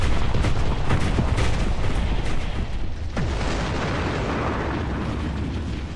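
A heavy explosion of an enemy structure in the Ground Control real-time strategy game, a loud rumbling blast set in a dense, continuous battle din of booms and bursts.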